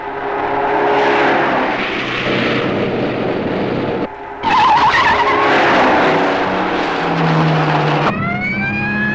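A car engine roars at speed on Highway 6 with sustained tire skidding and squealing, a brief dip near the middle, then a rising whine at the end. The sound suggests a police car in pursuit of a red convertible.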